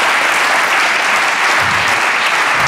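Loud, dense audience applause at a conference, continuous clapping from a large crowd filling the whole stretch without a break.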